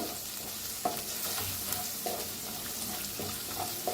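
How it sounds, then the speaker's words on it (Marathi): Half a spoon of turmeric roasted with masala in a pan on very low heat, a soft steady sizzle with periodic spatula scrapes, close and fairly quiet, no voices. "हळदीला बी छान असं भाजून घेऊया."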